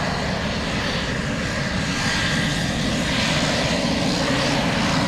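Steady, loud Pilatus PC-12 single-engine turboprop drone, a dense continuous roar that holds level throughout as the airplane is watched at Anchorage airport.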